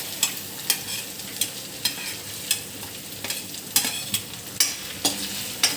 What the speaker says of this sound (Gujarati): હવે આપણે ડુંગળી નાખીશું